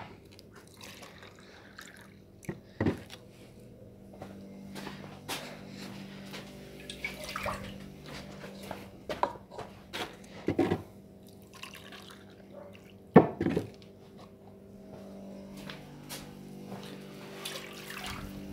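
A glass of water poured into rice cooking in a pan, giving a steady liquid rush with a few sharp splashes and drips over a low kitchen hum, close and fairly quiet.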